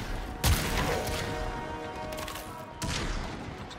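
Gunfire in the video game Warframe, two loud bursts of rapid shots in a row separated by a short pause, heavy and close, with no talking.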